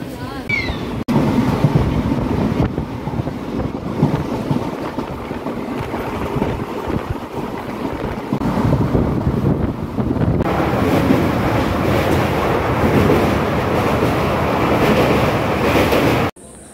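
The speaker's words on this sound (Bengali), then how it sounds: "তমলুকে আমাদের ট্রেন মাত্র 1 মিনিটের মতন দাঁড়ালো। তো এখন কিন্তু ছেড়ে দিচ্ছে" A passenger train departing Tamluk station on the Kolkata–Digha route rumbles steadily with a constant low roar and wind buffeting, heard from inside, close and loud throughout.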